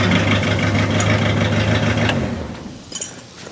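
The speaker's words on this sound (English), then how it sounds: "so idling on its own and kind of chugging." A 1964 Ford Thunderbird engine idles on its own with an uneven, chugging rumble, running rich, close and fairly loud before tapering off near the end.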